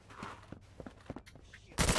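Gunfire in the tactical shooter Thunder Tier One: a few faint, distant shots pop irregularly at first, then a loud burst erupts right at the end.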